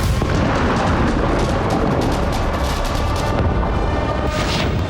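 Airstrike explosions in Lebanon, heard as loud, continuous rumbling booms and blasts layered over one another with sharp cracks on top, no voices.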